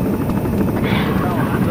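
A helicopter's steady rotor drone in a video game fills the clip, loud and continuous, with a voice briefly audible over it, telling civilians to board the helicopter.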